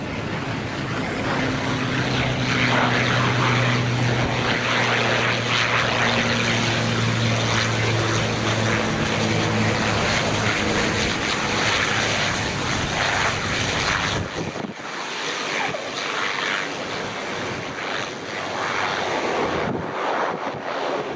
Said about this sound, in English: also have that KLM A330 coming in from Amsterdam.